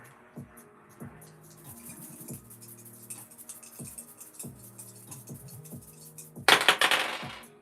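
Dice rolled for a fortune-telling reading make a short, loud clattering rattle near the end, after a stretch of soft, steady background music.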